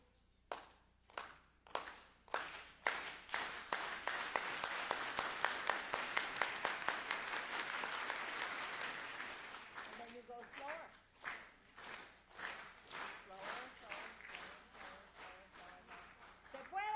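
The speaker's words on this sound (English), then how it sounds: "Let's do the clap." An audience claps in unison at a live event, slow spaced claps building into a fast, dense burst, then thinning into a scattered rhythmic pattern with voices in between.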